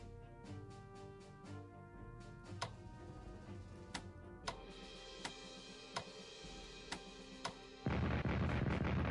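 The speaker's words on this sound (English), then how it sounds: "Defensive artillery that I didn't see." Defensive artillery in the strategy game Strategic Command: WWII, a string of sharp, evenly spaced reports over a soft musical bed, ending in a louder burst of noise.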